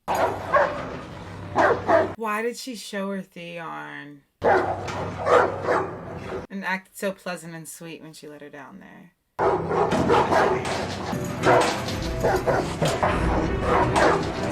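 Dogs in a kennel in a Game of Thrones scene bark, yip and whimper in short bursts, mixed under and between stretches of talking and dramatic scene audio.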